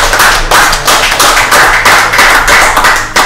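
An audience at an interactive dialogue event claps hands in a loud, close, slightly rhythmic burst of applause that carries on steadily throughout.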